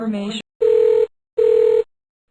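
A telephone dialing a call: two long, loud, steady tones about a second apart, following a short burst of voice at the start.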